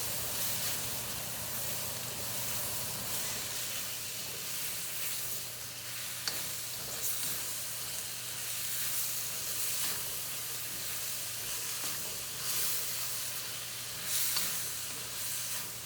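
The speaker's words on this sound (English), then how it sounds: "So this bagoong can get sauteed." Bagoong shrimp paste sautéing in a fairly dry pan, a continuous crackling sizzle with occasional louder spits and stirring scrapes, steady and close with no talking.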